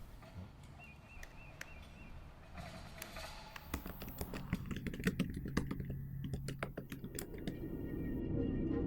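Fingers tap a computer keyboard at close range. The keystrokes start sparse and quiet, then turn into a quick, dense run of clicks with no speech.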